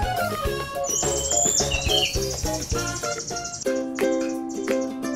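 A canary sings a rapid, varied song of trills and bright whistles, close and loud, with a steady high chirping underneath.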